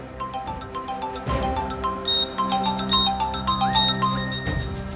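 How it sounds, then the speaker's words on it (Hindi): A melodic phone ringtone plays alone, a bright chiming tune of repeated notes that rises in pitch, moderately loud. "घर से फोन आ रहा है"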